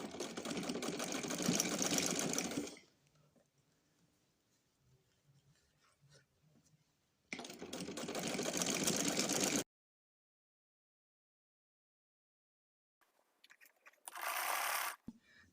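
A sewing machine runs in bursts while stitching lace onto fabric, a fast whirring mechanical rattle in three separate runs, the last one short, with near silence between them.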